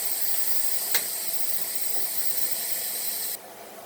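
Ginger-garlic paste sizzles in a pan of frying onions for Punjabi-style rajma, a loud, steady close hiss with one brief pop, cutting down to a quieter sizzle near the end.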